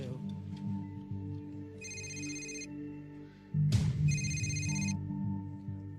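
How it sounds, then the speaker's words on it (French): A telephone rings twice after a call is placed, in two short bursts of a bright electronic ring, heard over a steady background bed of music with a thump between the rings. "Je vais appeler Trish."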